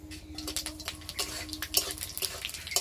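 Dried red chillies, bay leaves and five-spice fry in mustard oil in a wok, with quick scraping and clinking of a stirring utensil over a low sizzle.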